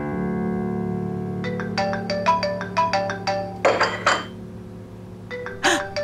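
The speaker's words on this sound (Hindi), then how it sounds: "अज़मी बीबी का फोन है" A phone ringtone plays a bright, chiming melody of repeated electronic notes over a low steady hum, with a brief clatter partway through.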